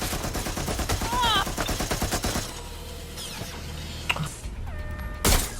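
Gunfire from the video game Watch Dogs: Legion, a busy run of rapid shots in the first couple of seconds, then quieter mechanical clicks and one sharp loud blast near the end.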